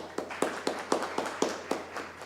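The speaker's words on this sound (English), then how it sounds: "Let's give another round of applause for Mr." Audience applause for a speaker at a lecture, heard as a few sharp, evenly spaced claps in a slow steady rhythm, fairly close and moderately loud, with no talking over them.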